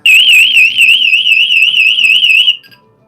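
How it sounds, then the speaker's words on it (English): A handheld personal safety alarm, set off by pressing its front button, shrieks with a loud, piercing warble. It sounds continuously for about two and a half seconds, then cuts off abruptly. "you can push this front button and it'll just set it off"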